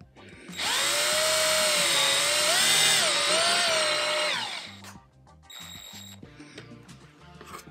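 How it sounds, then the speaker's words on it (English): A cordless power drill drives a screw into a custom wall vent in a teardrop camper, a loud steady whine rising and dipping in pitch for about four seconds, then stopping, followed by quieter clicks and handling. "And then we'll go ahead and put one of the screws in just to make sure it's what I want."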